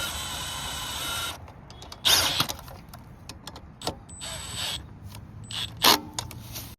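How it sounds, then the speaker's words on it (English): A hand ratchet bolts a carburetor onto the intake of a big bore Honda Express moped. The metallic clicking and clattering comes in short bursts with pauses, close and moderately loud, and no one speaks. "We're gonna bolt it up to the intake and let it rip."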